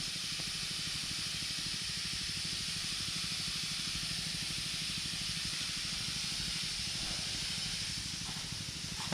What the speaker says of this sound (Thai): ฉีดลงดินยัดเข้าโคนต้น นี่ครับฉีดอย่างนี้เลย